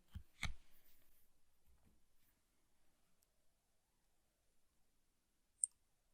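A computer mouse clicks the restart button in Windows 11: a couple of soft clicks near the start, then a quiet stretch and one sharp, isolated click near the end, close and faint.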